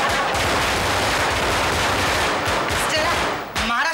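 Firecrackers burst in a loud, dense, continuous crackle of rapid pops that fills nearly the whole stretch and drops briefly near the end.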